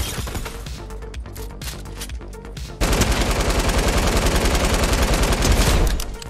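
Rapid automatic gunfire in Fortnite rattles in dense bursts, first in choppy intermittent volleys, then a louder sustained stream of shots lasting several seconds before cutting off.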